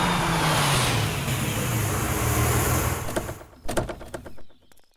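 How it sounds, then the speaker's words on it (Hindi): An ice cream truck's engine runs with a steady, loud vehicle rumble and a falling low drone, ending in a few clattering knocks before it cuts out. "ये आइसक्रीम ट्रक तो यहाँ पर है।"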